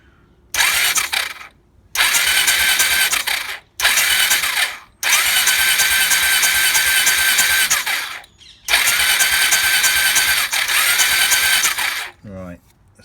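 A Suzuki SV650 motorcycle engine, a loose-throttle project bike with no carburettor fitted, is turned over on the starter button in five or six loud, close bursts of whirring, ratcheting cranking, with brief gaps between them.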